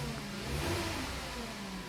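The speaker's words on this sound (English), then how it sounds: "as you can hear, the engine is running" A VW Passat engine with a check engine light on running steadily nearby, a continuous mid-pitched drone with a slight swell in revs partway through.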